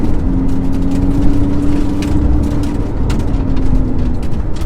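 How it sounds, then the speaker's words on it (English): A Lamborghini Gallardo LP560-4 pulls away from a standstill with the sprint booster off, its engine droning steadily and loudly throughout with a sustained low hum, close up and with no talking. "let's try a quick acceleration start from 0 here. Again, this is the sprint booster off"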